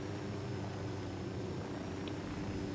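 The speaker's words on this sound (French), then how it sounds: "c'est l'hélicoptère." A steady, continuous helicopter drone from the video game Ghost Recon Wildlands hums throughout, fairly faint and unchanging, with no voices over it.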